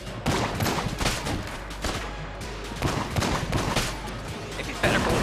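Repeated bursts of loud gunfire from a weapon in the Enter the Gungeon video game, several sharp volleys separated by brief pauses over about five seconds, with no voices heard.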